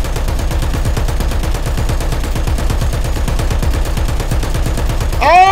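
Rapid machine-gun fire aimed at aircraft in a War Thunder arcade tank battle, loud and close, a fast unbroken stream of shots, followed at the end by a short burst of voice.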